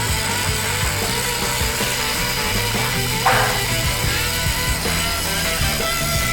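Cheap angle grinder cleaning an 11 cm weld bead, a steady loud whining grind with a rough gritty texture and a short scraping flare partway through.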